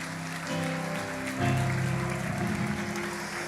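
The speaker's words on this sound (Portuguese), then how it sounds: "Tem mais gente, aplaude o Senhor." A church congregation clapping for the Lord during an evening sermon, a continuous wash of many hands with sustained organ or keyboard tones underneath.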